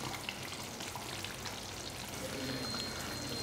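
Ground coconut, onion and garlic paste being poured into hot oil in a pan while cooking a vegetable-free curry, giving a steady, close, continuous sizzle and frying hiss with no talk.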